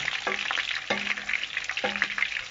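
Onions frying with browned chicken in a pan for a tajine, giving a steady close sizzle broken by three sharp scraping strokes of a utensil, no speech.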